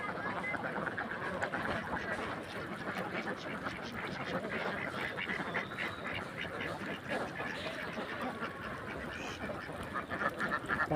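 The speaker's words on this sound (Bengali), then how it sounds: "এটা হলো কালো কিংরাজ হাঁস।" A flock of black Kingraj ducks on water quacks continuously in a dense, overlapping chorus, moderately distant and fairly quiet, with a steady outdoor background beneath.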